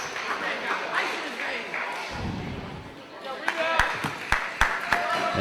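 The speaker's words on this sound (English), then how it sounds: "Second free throw getting some noise from the SVU crowd." Basketball crowd at an SVU men's college game against Penn State Harrisburg making noise after a free throw, a broad murmur of cheers with a few sharp thumps and claps, voices mixed in throughout.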